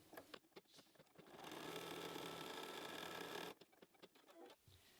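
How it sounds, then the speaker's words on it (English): An embroidery machine stitches the placement line for an in-the-hoop bunny bookmark, a fast steady whirring run of about two seconds, quiet and close, framed by a few clicks before and after. "we press it to go for the placement line first"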